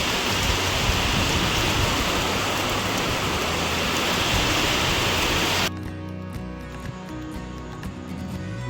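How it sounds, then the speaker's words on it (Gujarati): Heavy rain pours down outside during a storm, a dense, loud, continuous roar of rainfall that cuts off abruptly partway through, leaving quieter background with faint tonal hum. "બહાર વરસાદ ફૂલ પડે છે"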